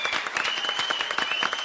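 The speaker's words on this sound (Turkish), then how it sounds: "Kutumba! Alkış!" An audience claps for a stage magician's entrance: a brief, dense burst of applause from a crowd, fairly loud and steady, with no voices over it.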